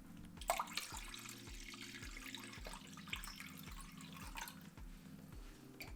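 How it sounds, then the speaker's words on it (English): Water runs and splashes into a baking pan for a water bath, a light continuous trickle with dripping sounds, over a faint, rhythmic low hum in the background. "add water halfway up the sides of the baking pan"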